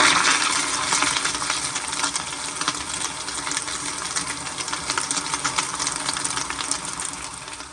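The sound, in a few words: 2007 Kohler Wellcome toilet flushing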